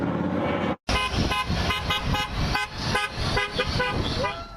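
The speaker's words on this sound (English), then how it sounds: "Honks of support for scores of vocal and colorful Trump fans who lined the Southern Boulevard Bridge in Palm Beach." Car horns honk repeatedly on the Southern Boulevard Bridge in Palm Beach, short toots overlapping amid passing traffic as crowds line the roadside, with voices and crowd noise mixed underneath.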